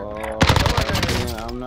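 Rapid automatic gunfire in a shooter video game starts abruptly as a loud, close burst of repeated cracks, with a sustained tonal hum underneath and the shots gradually fading.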